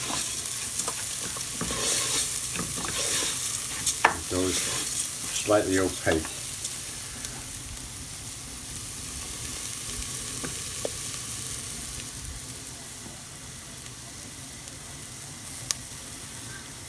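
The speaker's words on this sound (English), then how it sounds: "So just keep your rice moving." Mushroom risotto rice is stirred steadily in a hot pan, a close sizzle broken by scraping spoon strokes while someone talks over the cooking.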